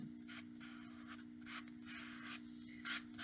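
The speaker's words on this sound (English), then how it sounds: "I'm going to pull it, scrape it across, pull it, and get rid of some of the paint" Paint scraped across a surface, dry rasping strokes repeating in uneven bursts, close and quiet, with a steady hum underneath.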